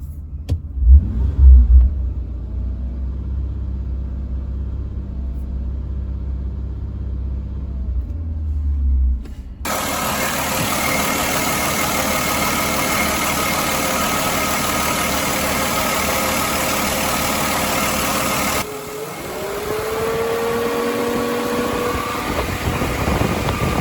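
A Ford engine idles in a steady low rumble once its sensor is plugged back in. Near the start a few heavier thumps sound, then the tone shifts twice as the running evens out, with no talk.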